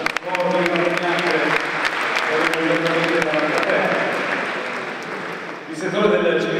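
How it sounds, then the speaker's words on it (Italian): Audience applause at an Italian cycling award ceremony, steady sustained clapping from a large crowd filling the hall, with a voice briefly audible over it before a fresh swell near the end. "Facciamo un applauso a questa forte premiazione."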